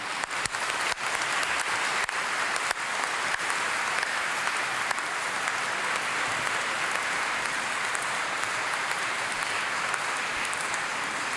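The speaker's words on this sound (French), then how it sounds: "je crois qu'on peut applaudir" A congregation applauds at length inside a church after solemn vespers closing a relic exhibition, the dense, even clapping filling the space without pause.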